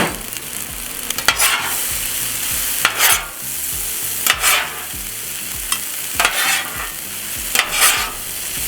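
Fried rice with green onions stir-fried in a hot pan, with loud sizzling and bursts of spatula scraping and tossing every second or so, up close and with no talking.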